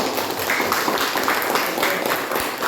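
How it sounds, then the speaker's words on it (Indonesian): A classroom of students applauds a winning group during a lesson. The clapping is loud and close, with a busy, uneven patter of many hands lasting a few seconds. "Kasih dulu tepuk tangan."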